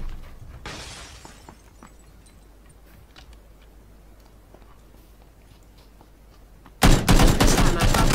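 Gunfire in the PUBG Battlegrounds video game: after a quiet stretch with a brief burst early on, a loud rapid volley erupts near the end and keeps going.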